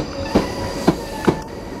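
An SWR Class 458 electric multiple-unit train rolls through Guildford, with three distinct wheel clacks over rail joints above a steady electric hum and rumble, close by and with no talk.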